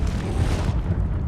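Incendio fire spell cast in Hogwarts Legacy, a loud, close burst of roaring flame with a deep rumbling body that fades over about a second.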